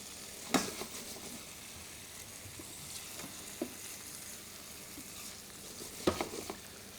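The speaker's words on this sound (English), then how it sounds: "What's important when you blanch the potato gnocchi is that the pan is got a rolling boil, so it's really, really vigorous." Potato gnocchi blanching in a pan of vigorous rolling boiling water, giving a steady bubbling hiss with a few sharper splashes and clinks, close by with no talking.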